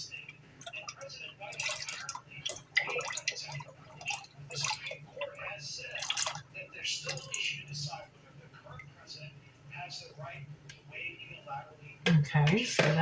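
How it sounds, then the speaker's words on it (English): Lye water made from rainwater poured for soapmaking, a thin trickle and light dripping close by under a person talking, ending with a sharper clatter. "I'm pouring my lye water right now."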